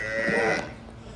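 A large Sahiwal-cross cow lets out one brief, low, fairly loud moo that fades within about half a second, with no talking over it.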